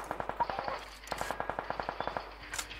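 Rapid automatic gunfire from a video game, in two sustained bursts of evenly spaced shots with a short pause between, fairly loud and close with no talk over it.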